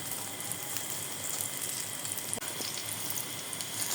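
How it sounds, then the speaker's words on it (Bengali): Large leaves fry in a pan with a soft, steady sizzle and crackle, close but fairly quiet, with one sharp tick partway through and no voices. "আর দুটো ভেজে নেব, পরের দুটো এরকম ভেজে নেব"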